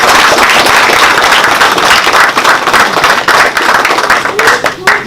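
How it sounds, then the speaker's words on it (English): Award ceremony audience applause, loud dense clapping close up throughout, with a voice faintly audible near the end. "Lots of applause coming through the screens from our virtual audience"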